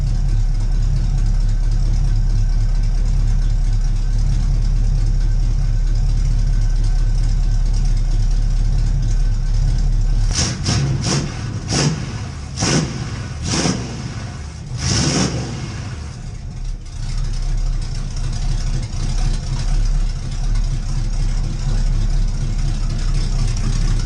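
A carbureted engine in a 1984 Oldsmobile Cutlass idles steadily, then takes a series of sharp blips of the throttle, each rev flaring loud and brief, before settling back into a low, even idle.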